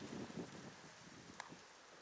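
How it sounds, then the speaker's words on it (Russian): Steady wind rushing against the microphone outdoors during Nikolaev pigeon flights, a low buffeting roar throughout with faint rustling and a brief small knock. "Вот опять ветерок"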